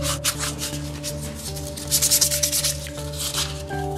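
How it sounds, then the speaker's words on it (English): Hand sanding a handcrafted wooden ladle carved with a Mora hook knife, a close, steady rasping rub in repeated short strokes that quicken briefly, with a low background hum and no speech. "just to save you all the tedious boredom of watching somebody sand wood for a couple of days"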